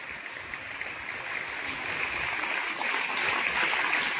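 An audience at a Marathi lecture gathering gives a round of hearty applause. A dense, even wash of clapping holds throughout and swells slightly toward the end, with no voices over it.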